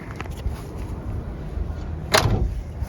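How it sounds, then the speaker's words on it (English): A classic car's door shutting at a motor car display: one solid thump with a short rattle close by, heard late against steady outdoor background noise. "Door shuts real nice."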